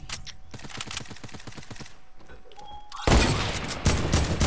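Rapid bursts of gunfire ring out in a two-team multiplayer video game match, first as a quick, evenly spaced string of shots, then a louder, harsher barrage of heavy fire and blasts near the end.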